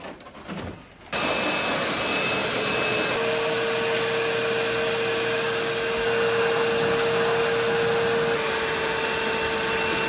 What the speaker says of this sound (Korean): 그 물기를 말리려고 선풍기로 지금 물기를 털어내고 있습니다